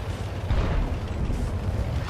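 A tank shell hits the player's tank in World of Tanks, fired by a T-150: a heavy, booming impact with a rumbling low-end blast that stays dense and sustained, with no talk.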